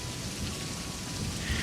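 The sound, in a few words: thunderstorm with heavy rain and thunder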